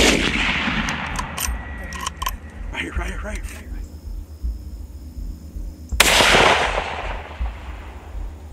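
Loud, sharp gunshots fired at hogs during a night hunt, a quick cluster of several blasts early then one heavy shot later, with excited voices talking between them outdoors.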